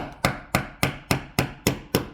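Seven sharp, evenly spaced metallic hammer taps on a screwdriver, driving out a pin from a Shark robotic vacuum wheel, about one every third of a second, close and clear with no talking.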